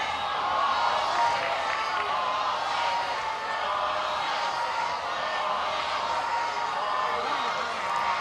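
A large softball crowd at an NCAA game between Arizona State and Texas A&M keeps up a steady, loud collective roar and chant, a broad wash of voices heard from a distance throughout.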